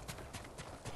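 Horse hooves clip-clopping in the video game Ghost of Tsushima, a quick steady galloping rhythm of soft thuds, faint and continuous under a game soundscape.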